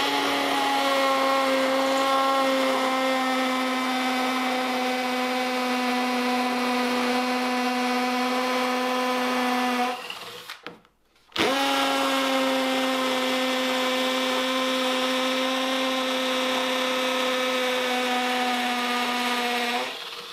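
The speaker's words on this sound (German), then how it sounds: "Also er hat ohne Probleme das Loch dort reinbekommen in Kalksandstein." A Bosch 12V cordless drill with an 8 mm bit bores into sand-lime brick, giving a loud, steady high-pitched whine that cuts out briefly midway and then resumes at the same pitch.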